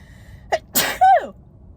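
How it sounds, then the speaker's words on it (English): A single sharp sneeze with a quick intake of breath before it, close and fairly loud, in an otherwise quiet space. "I'm gonna sneeze right now."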